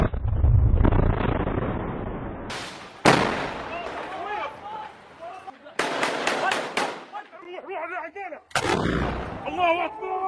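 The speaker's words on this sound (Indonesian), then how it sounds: "Suara deru tembakan terlihat sangat cepat dan begitu gesit dari militan pro-Palestina" Gunfire and blasts from combat footage of pro-Palestinian militants fighting: a low explosive rumble, then several sharp, loud cracks and bursts in irregular clusters, with shouting voices and talk between the shots.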